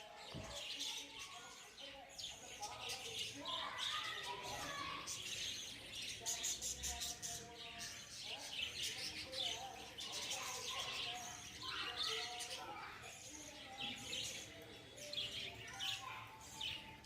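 Lovebirds and budgies in a breeding colony chirp and chatter continuously, a dense, busy chorus of overlapping bright calls close by, perched on eucalyptus-wood sticks in their cages.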